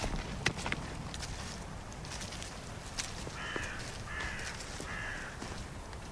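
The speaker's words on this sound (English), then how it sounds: "We're watched by a crow the size of a Jack Russell." Crow cawing in a Sussex woodland, three hoarse calls spaced about a second apart, moderately distant over a quiet outdoor background with scattered footstep-like knocks.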